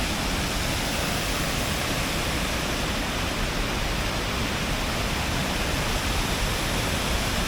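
River water rushes through a small-scale hydro generation plant, producing a loud, dense, unbroken roar of broadband noise that stays constant throughout, with no voices.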